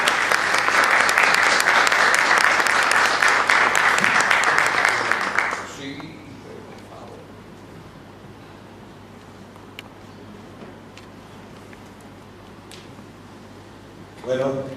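Audience applause for Eduardo Gabriel Fernández at a professional event in Córdoba, loud and dense for about five and a half seconds before cutting off abruptly, leaving quiet room tone and a brief faint burst near the end.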